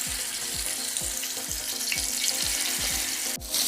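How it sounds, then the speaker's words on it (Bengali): Salt-and-turmeric-rubbed pangas fish frying in hot mustard oil, a loud, dense, continuous sizzle with a faint low repeating hum beneath it and no talk. "এই দেখুন আমি উল্টিয়ে পাল্টিয়ে মাছগুলো ভেজে নিচ্ছি"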